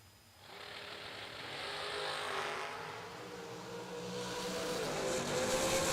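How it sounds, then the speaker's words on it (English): Dragsters in a heads-up drag race roar as they launch, a loud engine rumble building and holding steady with no talk over it. "Next pair, Kevin Bennett and Caleb Redeker. Heads up drag race"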